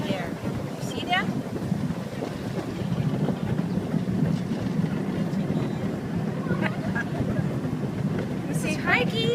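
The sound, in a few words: Vasona train ride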